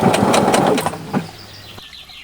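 A sewing machine stitches trousers in short rapid mechanical pulses for about a second, then slows and stops, leaving quiet room tone.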